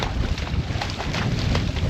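Strong gusty wind buffets the microphone, a loud rumbling roar that surges and dips in quick gusts throughout, with no voices.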